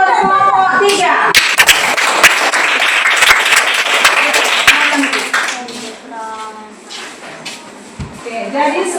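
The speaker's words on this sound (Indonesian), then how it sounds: "Beri tepuk tangan buat kelompok 3" A classroom of students claps for group 3, with sharp scattered claps and a brief burst of applause mixed with lively chatter and voices throughout.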